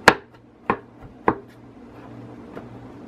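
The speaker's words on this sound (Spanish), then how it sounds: "entonces ya en esta parte aquí vamos a picarlo." Knife chopping chicken seasoning ingredients on a board, three sharp close chops in quick succession, then a fainter fourth after a pause, with no talking.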